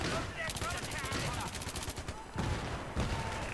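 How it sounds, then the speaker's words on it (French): Automatic weapon fire in the video game Battlefield 3, rapid bursts of shots rattling in quick succession with brief gaps between them. "Là quand je parle d'effectivement mitrailler pour éliminer des ennemis, bah là vous avez quelques exemples."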